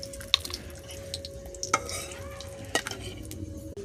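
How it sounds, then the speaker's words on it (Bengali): Potatoes fry in a pan of oil with bay leaf and sugar tempering, a steady soft sizzle running throughout, broken by a few sharp clinks of a stirring utensil against the pan near the start and middle. "এখানে আলু ভাজা হচ্ছে"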